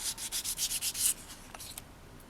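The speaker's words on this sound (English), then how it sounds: "I will just run the sandpaper over the surface just lightly to remove the last of that surface paint" Sandpaper rubbed lightly over polymer clay bead caps in quick, even back-and-forth strokes, soft and close, about eight rhythmic passes followed by a few scattered light scrapes.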